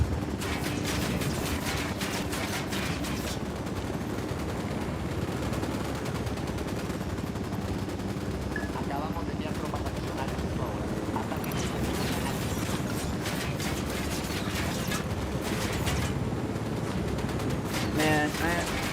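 Bursts of rapid gunfire and scattered shots in the video game Ghost Recon: Wildlands, rattling on and off across the whole stretch at moderate level over a steady background, with occasional sharper cracks.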